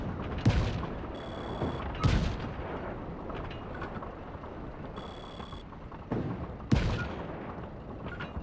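Heavy cannon booms in Just Cause 3, four sharp blasts spaced a few seconds apart, each followed by a rumbling tail.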